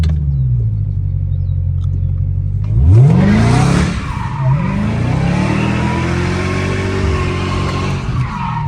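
A Dodge Hellcat Redeye idles with a deep rumble, then revs hard and slides through a tight U-turn, engine roaring and rising in pitch with tire noise before settling into a sustained loud drone.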